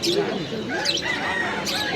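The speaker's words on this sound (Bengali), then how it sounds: "চলো এদিকে দেখো কত সুন্দর সুন্দর পাখি" Birds chirp and tweet in a busy bird market selling cockatoos and pigeons, their high calls mixing with crowd chatter and people talking nearby.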